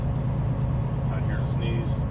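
A truck engine idles up in a steady low rumble to fill the air brake tanks during a pre-trip inspection, heard close with a voice talking over it.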